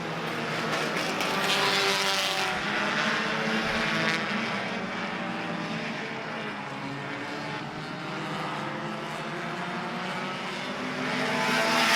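Race cars at Citrus County Speedway roar continuously through the full stretch, a loud, sustained engine drone with shifting pitch as cars circle the oval, with no talking heard.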